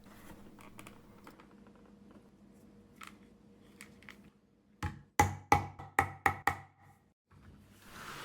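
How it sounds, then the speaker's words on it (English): Sharp, loud hammer strikes set rivets through the side fins of a leather angler-fish bag, about six quick blows in a tight cluster after quieter handling sounds, with no talking. "Next, we want to rivet on the side fins on the side."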